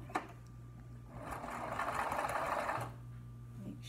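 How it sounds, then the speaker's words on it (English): A home sewing machine stitching around the edge to set in a sleeve on an eyelet lace summer tunic, one steady close run of about two seconds between quiet pauses, with no talking. "I'm going to just sew around the seams or the edge to sew in the sleeve."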